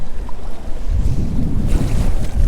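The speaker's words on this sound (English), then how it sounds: "Both of us got hit by that wave." On open water, a wave slaps against a walleye fishing boat, giving a heavy low thump and sloshing surge under constant roaring wind buffeting the microphone.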